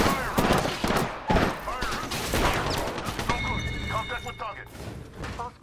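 Gunfire in the video game Apex Legends, several sharp shots and bursts mixed with thuds and game effects, close and loud, with a voice talking over parts of it.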